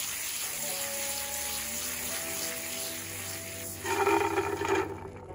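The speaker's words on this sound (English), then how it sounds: "Rinse the corn thoroughly, washing off all remaining ash." Water running steadily over nixtamalized corn as ash is rinsed off the kernels, a continuous close splashing wash that grows louder and rougher toward the end.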